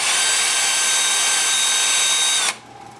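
A wood lathe spins at about 350 rpm while a wooden flower pot is sanded, giving a loud steady rushing hum with a faint whine that cuts off abruptly, leaving a quiet hum.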